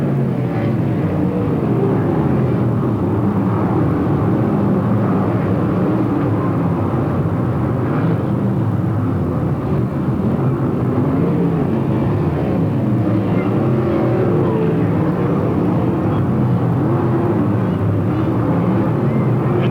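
Loud, continuous roar of 360 sprint car engines racing around a dirt track at Marysville, California, a dense droning engine wash that stays steady from start to finish with no clear speech.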